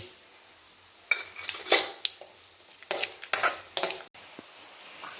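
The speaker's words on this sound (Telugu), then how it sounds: "తాలింపు తీసి పచ్చడిలో వేయాలి." Metal spoon clinking and scraping against a pan and bowl as a hot tempering of oil, cumin, curry leaves, dried chillies and vadiyalu is spooned into tamarind chutney; several sharp close clatters in bursts, no talk.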